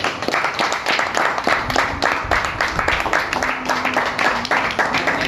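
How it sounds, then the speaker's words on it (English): A team on a Goa outing gives a big round of applause, a loud, continuous burst of many hands clapping together for several seconds, with some voices mixed in. "Let's have a big round of applause for that."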